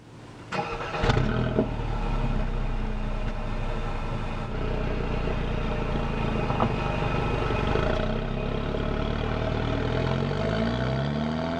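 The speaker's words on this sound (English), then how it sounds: "There's a lot more noise in this than you would think when you think about a Mercedes." Road and driveline noise fills the cabin of a front-wheel-drive Mercedes CLA on the move, a steady broad rumble with a clunk near the start and a rising engine tone toward the end, with no speech.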